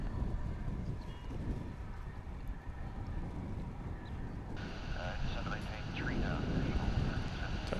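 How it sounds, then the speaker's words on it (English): A white Boeing 777-346ER airliner, built in 2006, lands at DFW International Airport after a long flight from Tokyo, giving a distant, steady jet roar that swells toward the end, with a voice talking over it. "So the big white 777 settles down after completing an almost 11-hour flight from Tokyo."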